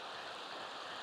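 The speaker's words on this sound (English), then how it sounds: "There is not a ton of water flowing down this right now." A small stream trickles over moss on a Colorado mountainside, a steady, soft broadband wash of flowing water, faint and continuous with no voices.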